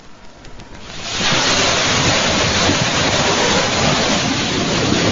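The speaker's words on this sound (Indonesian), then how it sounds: "Hujan disertai angin kencang di Kota Bandung, Jawa Barat terjadi sekitar pukul 2 siang" Heavy rain pours with strong wind during a hailstorm in Bandung, West Java, starting quieter then building after a second into a loud, steady, dense roar of rainfall and gusts that continues unbroken.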